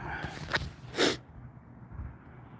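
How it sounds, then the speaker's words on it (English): A person sneezes once outdoors on a porch at suppertime, a short sharp burst close to the microphone, followed by quiet ambience. "Yeah, I did sneeze."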